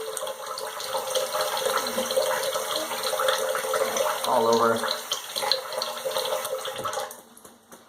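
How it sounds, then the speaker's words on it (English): Cold tap water runs and splashes at a bathroom sink as it is cupped onto a freshly shaved face after a safety-razor wet shave, a steady close rush with a brief spoken phrase before the flow cuts off near the end. "So I'll put some, just splash some cold over it."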